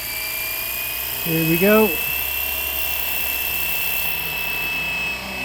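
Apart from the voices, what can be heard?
Flywing Bell 206 RC helicopter spooling up and taking off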